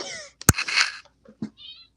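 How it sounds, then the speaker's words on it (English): A short house cat meow up close, with a sharp thump and a brief knock nearby. "Strainer, did you just meow? It was my cat"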